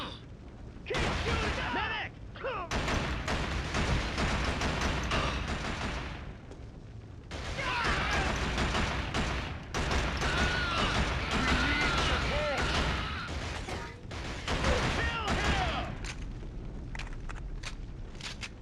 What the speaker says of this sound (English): Keep shooting, medic!